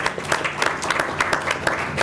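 An audience at a business panel claps for the panelists, a brief patter of distinct hand claps in an uneven rhythm lasting about two seconds.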